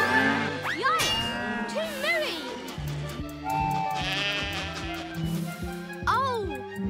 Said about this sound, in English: Too sheepy!